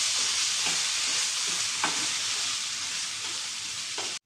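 Coarsely ground peas and potato stir-fried in a pan, a steady loud sizzle with several scraping stirs of the spoon at intervals, ending abruptly.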